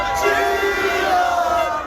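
A dense street crowd roars and cheers in a sustained, loud wash of many voices, celebrating with dancing in the streets.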